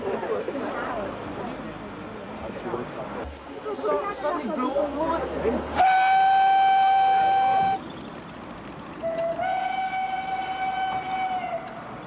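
Steam locomotive Irish Mail heading a Ffestiniog Railway train uphill at a 1993 steam festival, with a loud sustained whistle blast, then a second whistle after a pause, over rumbling train noise and a crowd chatting.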